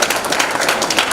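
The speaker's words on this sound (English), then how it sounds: "let's give him a round of applause" Applause fills a sports awards ceremony as an honoree is recognized, a dense, continuous wash of many hands clapping at once, loud and close with no break.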